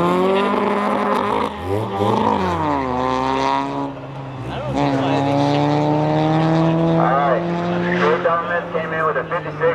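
2006 Volkswagen GTI on an autocross course, engine revving up and down through the run with rising and falling pitch and brief tire squeal, loud and continuous, with a commentator talking over it.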